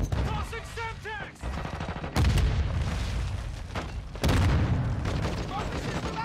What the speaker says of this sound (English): Tossing Semtex.